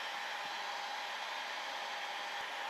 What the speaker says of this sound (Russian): Включаем фен. До горячего состояния.